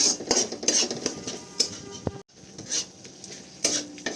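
Spoon scraping and clinking against a pan as red chili sauce is mixed into a broccoli masala base, a few sharp metallic taps over soft stirring, close and fairly quiet.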